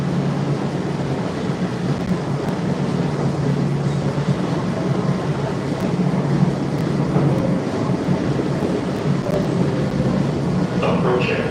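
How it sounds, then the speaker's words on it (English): An MBTA Red Line subway train rolls along on a local run with a steady low rumble and rattle heard from inside the car. Faint background chatter sits under the rail noise. "So this is the local train."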